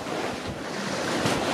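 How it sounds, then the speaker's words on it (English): Sea waves rush and slosh around a sailboat underway along the Peloponnese coast, mixed with strong gusting wind buffeting the microphone in a continuous, fairly loud roar with no talking. "the waves are changing direction"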